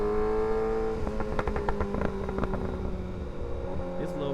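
Kawasaki ZX6R sport motorcycle engine revving up in first gear, a steady loud whine rising with harmonic tones and a few sharp pulses of acceleration, with wind noise underneath.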